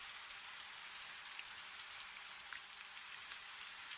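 Steady rain falls in an even, soft hiss with faint scattered drops, continuous and unbroken, with no voices.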